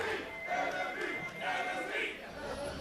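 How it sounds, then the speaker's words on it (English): Esports arena crowd at an NA LCS Summer 2015 match between Team SoloMid and Enemy eSports, chanting team tri-codes in rising and falling waves of massed voices, a steady, moderately loud roar throughout. "Pretty decent enemy chant there as well"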